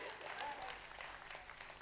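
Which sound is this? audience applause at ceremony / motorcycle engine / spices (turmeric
audience applause at ceremony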